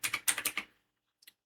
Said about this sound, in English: simply type here DISM /online